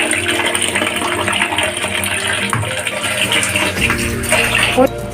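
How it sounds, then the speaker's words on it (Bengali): Hilsa fish are washed under running water, a loud, continuous gushing splash close by, with a voice faintly mixed in. "এখন ধুয়ে নেওয়া হচ্ছে"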